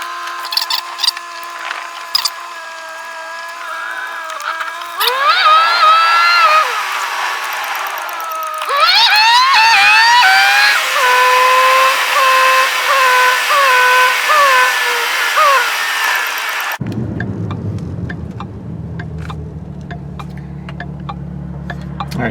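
A car drives along the road, its engine whining in rising and falling tones that then give way to a low, steady road rumble, with no talk.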